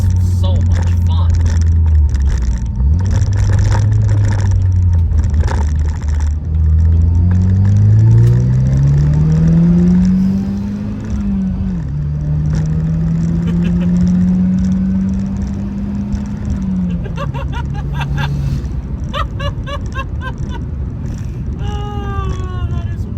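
A turbocharged Pontiac Solstice with a stage 1 tune launching hard: a loud, close engine note climbing steadily in pitch, dropping at a gear change, then pulling up again before easing off, with voices over parts of it.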